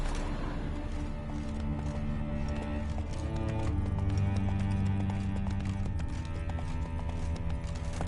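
Hooves of Roach, the horse in The Witcher 3, clip-clopping in a steady rhythm over game music and ambience for about eight seconds, with no voices.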